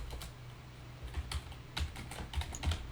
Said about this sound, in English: I can see your screen, but I can't see where you're typing.